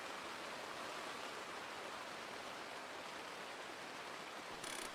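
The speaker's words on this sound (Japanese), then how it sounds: "雨の音やったんか" Steady dense hiss of heavy rain in a horror video game, continuous and even throughout, with no voices.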